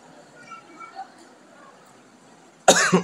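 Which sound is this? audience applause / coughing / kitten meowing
coughing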